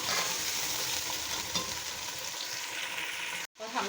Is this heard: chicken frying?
yes